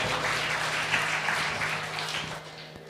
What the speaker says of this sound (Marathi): टाळ्या चांगल्या वाजायला पाहिजे